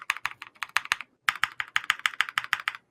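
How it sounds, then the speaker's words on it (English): Budget custom mechanical keyboard being typed on: quick bursts of crisp clicky keystrokes in an irregular rhythm, close and clear, with a brief pause midway and no talking. "So here's the sound test for Hippio's keyboard"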